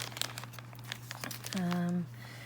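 A paper bag holding maps and tickets is handled in a scrapbook album, making close crinkling and rustling noises, with a short tonal hum near the end.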